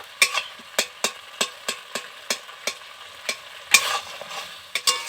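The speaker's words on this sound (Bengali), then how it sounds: "আদা বাটা দিয়ে দেবো, দিয়ে একটু ভালো করে নাড়াচাড়া করে নেব" A spoon scrapes rhythmically around a pan as spices and ginger paste fry, giving a series of sharp evenly spaced stirring strokes over a faint sizzle, close and clear.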